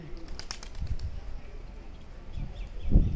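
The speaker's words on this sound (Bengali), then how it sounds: "কবুতরগুলো অসাধারণ ডাকতেছে।" Pigeons coo softly in a few low, throaty bursts, with wing flutters and outdoor ambience near a coconut tree.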